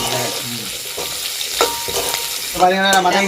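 Onion and green chili fry in a pan for a Jaffna-style squid curry, giving a close, steady sizzle broken by several scraping stirs of a spoon against the pan.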